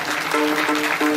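Applause from the gathering at a temple kirtan on Mahashivratri, a dense continuous clapping heard close and fairly loud throughout, with no break.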